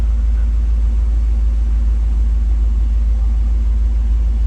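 Deep continuous idle rumble from a 1990 GMC truck running a swapped 350 V8 through a Cummins exhaust tip, loud and close, holding an even low throb with no one talking.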